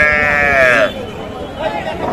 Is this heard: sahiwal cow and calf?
yes